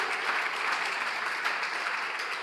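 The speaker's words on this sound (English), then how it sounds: "So can we do it one more time so they feel welcome?" Steady crowd applause at a teachers' college anniversary media launch, an even wash of clapping from many hands lasting throughout.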